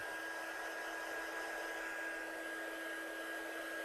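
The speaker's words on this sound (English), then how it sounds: "just run my heat tool over it, because if I pick that up, I know I'll smudge it with my fingerprints" Crafting heat tool blowing hot air over heat-embossed black ink on a handmade card, a steady close roaring whoosh with a faint high whine, heard alone throughout.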